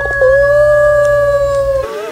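A voice imitates a dog howling at a temple, one long sustained wavering howl held for nearly two seconds, loud and close, with no other talk.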